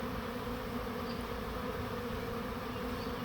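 A massive honeybee swarm moving into a backyard swarm trap makes a dense, continuous buzz, steady and loud with no pauses and no voices.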